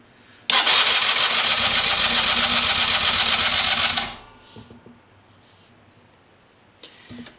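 A 50cc scooter engine fitted with a 70cc big bore kit turns over with a loud, sustained starter whir lasting several seconds, then drops to a quiet, low idle with faint rattles.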